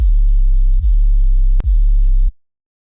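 A loud, deep synthesized sub bass tone, clean and undistorted, played in three sustained notes with brief breaks before cutting off into silence.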